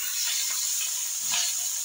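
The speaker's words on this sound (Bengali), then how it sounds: "এখন মশলাটা ভালোভাবে কষাই নিব" Spices frying in hot oil for a gourd curry, a steady close sizzle and hiss with a slight swell near the end, no voices.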